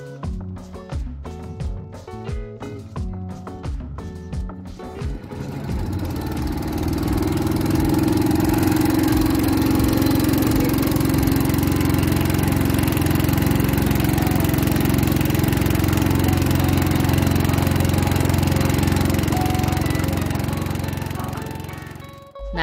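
Motor boat engine carrying visitors along the Oyo River in Gunung Kidul, Yogyakarta, near Sri Gethuk waterfall: after a few choppy knocks, a loud, steady, close rumbling drone holds for roughly fifteen seconds, then cuts off abruptly.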